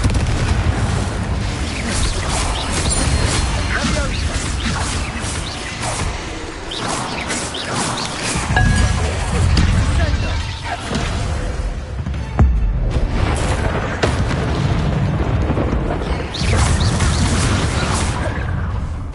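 Repeated booming magical blasts from the Confringo spell in Hogwarts Legacy, loud and dense, with crashing impacts and rumbling bursts layered over a continuous combat din.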